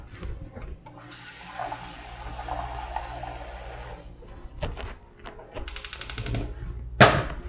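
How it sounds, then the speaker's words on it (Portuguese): Water pours into a small saucepan for nut milk, a quiet splashing stream under a faint background hum, followed by a few brief clatters and a sharp knock near the end. "Vamos colocar água."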